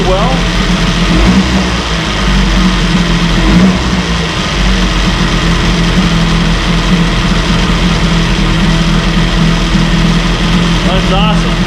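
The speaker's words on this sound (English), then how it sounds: "Now it idles up a little high right now, but as it warms up, it seems to settle down" A 1968 Evinrude 18 hp Fastwin outboard motor idles slightly high, a loud, close, steady low engine drone with an even pulse throughout, with someone talking over it.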